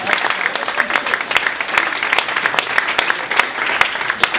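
An audience at a holiday pitch competition applauds pitch presenters, a dense, continuous clapping from a sizeable crowd, loud and close, lasting the whole stretch.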